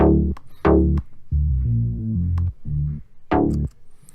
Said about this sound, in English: Then I added on a sub bass.